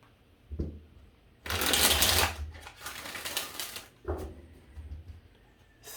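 A deck of tarot cards is riffled and shuffled close by in several quick bursts, each a dense papery flutter separated by brief pauses, with no talking.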